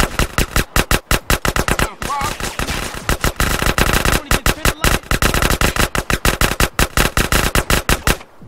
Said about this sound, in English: I'm trying not to shoot Sweet.